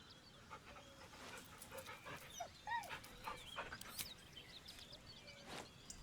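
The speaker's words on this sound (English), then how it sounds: "The dog whimpers nervously" A dog in the video game Baldur's Gate 3 whimpers nervously, giving soft panting whines and faint yips at low volume over a quiet ambient background.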